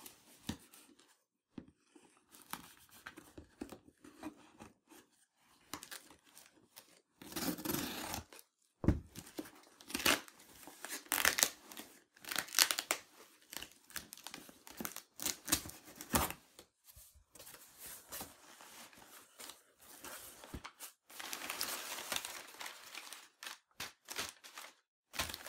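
A package of miniature figures is cut open and unwrapped, with close scratchy cutting, crinkling and tearing of packing material, and shuffling paper in irregular bursts throughout.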